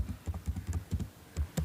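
Keystrokes on a computer keyboard while working in Tally Prime accounting software, a run of about nine close, crisp clicks and taps at an uneven rhythm, with a couple of stronger presses like the Enter key near the end.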